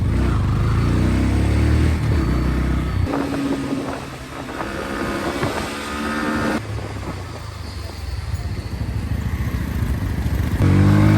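A Bajaj NS200 motorcycle is ridden at speed, its engine droning loudly and steadily with pitch shifts at gear changes, mixed with rushing wind noise against the microphone.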